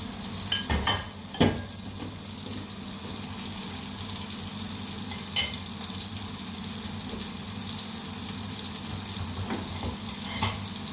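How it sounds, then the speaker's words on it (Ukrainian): Cod fillets frying in a pan, a steady close sizzle running throughout, broken by a few sharp clinks and scrapes of a utensil near the start and middle. "Будемо обжарювати рибку з обох сторін."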